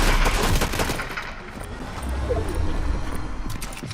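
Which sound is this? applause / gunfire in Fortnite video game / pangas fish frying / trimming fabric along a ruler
gunfire in Fortnite video game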